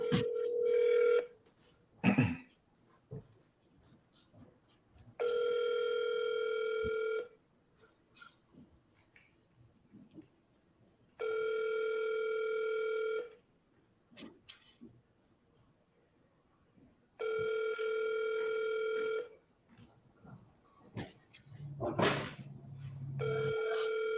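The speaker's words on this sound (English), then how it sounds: "I'm calling this person right here, though." A telephone ringback tone sounds on an outgoing call, with four long, evenly spaced rings separated by quiet gaps, close and clear, with faint background noises between them.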